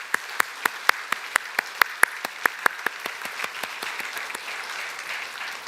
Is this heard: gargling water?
no